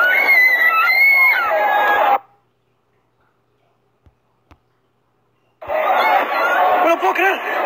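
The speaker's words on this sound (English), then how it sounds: "all of a sudden you hear screaming" People scream loudly at a staged car crash scene on a busy city street, two intense bursts of shrill crowd screaming separated by a few seconds of near silence.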